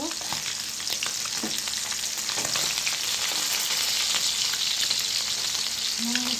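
Pieces of rohu fish sizzle steadily in hot oil in a frying pan, a constant crackling fry with faint stirring scrapes, close and even throughout.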